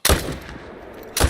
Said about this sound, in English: Oh, I missed the second shot.